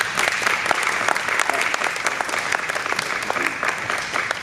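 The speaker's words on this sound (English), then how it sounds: "thank you so much for coming, Jimmy, and a round of applause." An audience at a political talk event with a Navy veteran guest bursts into steady, dense applause, a close wash of many hands clapping that continues throughout.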